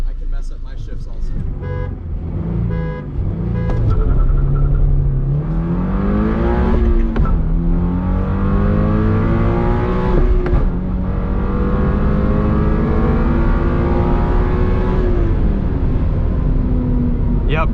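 A 2022 Subaru BRZ in manual mode and a 2022 BMW 230i accelerate hard side by side in a drag race, engine pitch climbing through the gears with brief dips at shifts, loud and continuous from inside the car.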